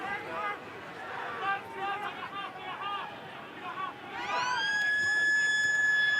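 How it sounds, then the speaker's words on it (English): At a 2013 Brumbies versus British and Irish Lions rugby match, the stadium's halftime siren rises into a loud, sustained wailing tone partway through, over crowd noise and a voice talking. "As the halftime siren sounds."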